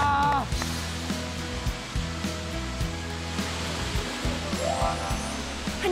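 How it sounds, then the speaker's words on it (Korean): Myeongji waterfall in a Korean mountain valley pours in a steady, loud rushing roar, with a few brief voices and exclamations rising over the water. "명지 폭포입니다!"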